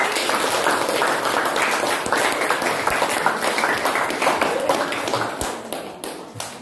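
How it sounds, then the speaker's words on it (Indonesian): A classroom of secondary school students applauds a classmate, a dense burst of clapping that carries on steadily before thinning out into a few scattered final claps. "beri tepuk tangan untuk Wale Siti"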